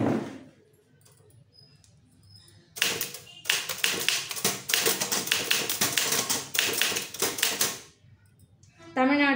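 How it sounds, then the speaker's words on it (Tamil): Tamil typewriter keys clack in a fast, steady run of sharp close strikes while typing an official letter, with a carriage shift at the end and a voice talking at the start. "தமிழ்நாடு அரசு அப்படின்னு டைப் பண்ணிட்டேன்"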